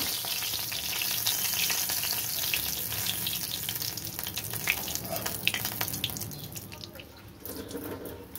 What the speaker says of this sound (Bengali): মাছগুলো এক পাশ ভাজা হয়ে গেলে উল্টে দেবো